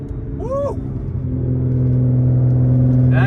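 A facelift Nissan GT-R with a Miser shaft exhaust accelerates hard, its engine note building into a loud, steady drone that rises in pitch and intensity, with a brief whoop of a voice early on.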